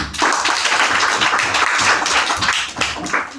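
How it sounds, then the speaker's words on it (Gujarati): Schoolchildren at a primary school clap together for the winner of a running race, a dense, steady patter of many small hands throughout, fairly loud and close with no pauses. "તાળીઓ પાડો લ્યા"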